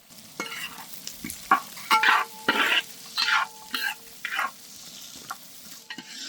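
Two finely chopped onions with a couple of green chillies frying in a pan, a soft sizzle under repeated near scraping and stirring strokes in short bursts, with no talking.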